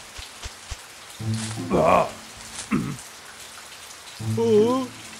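Cartoon rain pours in a steady, close hiss under the scene, with voiced cartoon sounds rising over it in several bursts.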